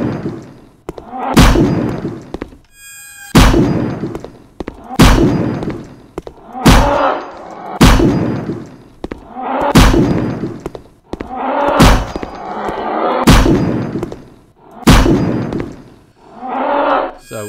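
Pistol shots with weapon impact effects in a Unity3D survival horror game, about ten sharp, loud cracks spaced roughly a second or two apart, each followed by a short clanking thud and fading tail.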